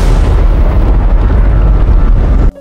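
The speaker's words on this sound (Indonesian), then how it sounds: "bom meledak mengisi ruangan terbuka dengan api" A bomb goes off in an action film, filling the room with fire. A loud, sustained roaring blast with heavy low rumble continues throughout and cuts off abruptly at the very end.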